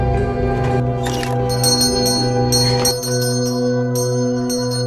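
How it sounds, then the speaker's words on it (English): Hotel call bell in a horror film scene, bright metallic rings struck repeatedly over a sustained tonal musical drone. "manages to ring the call bell, allowing Jerry to hear it"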